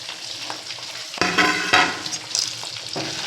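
Chicken pieces for chicken pickle fry in hot oil with a steady crackling sizzle, broken by louder bursts as the pieces are stirred and turned, with no talking.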